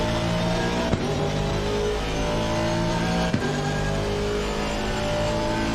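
A GT3 race car at Paul Ricard in Assetto Corsa Competizione holds a loud, steady engine drone, broken by two sharp clicks of downshifts a couple of seconds apart as it pulls back up.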